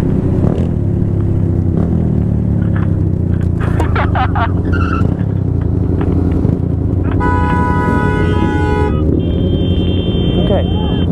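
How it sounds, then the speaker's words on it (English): A car horn blares at a motorcycle rider on the road, a loud sustained honk lasting about two seconds, set against passing traffic and engine noise with people talking nearby. "That was a loud honk."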